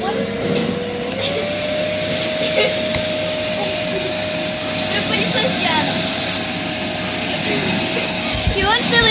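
A household vacuum cleaner runs loud and close for the whole stretch, a steady airy roar with a high whine on top that barely shifts in pitch.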